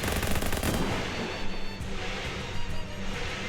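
Rapid bursts of video-game gunfire from Shadows over Loathing blast at an old oil burner, dense and loud, fading slightly into a sustained rattling clatter with no talk.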